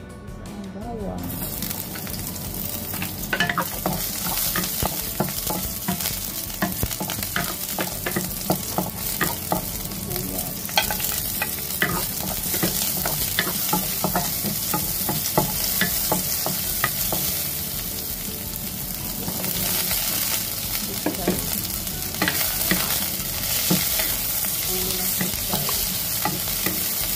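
Garlic sizzles and crackles steadily in hot cooking oil in a clean pan, with repeated scraping strokes of a spatula stirring it throughout, close and continuous.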